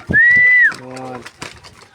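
Close pigeons coo softly in low, throaty calls, with a brief higher whistle-like note at the start.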